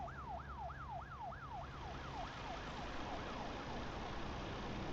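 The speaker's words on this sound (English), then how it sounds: "heard a siren that was not for me" Siren in the American Truck Simulator video game, wailing in rapid rising-and-falling sweeps that fade from moderately loud to faint as it recedes, over a low steady truck engine rumble.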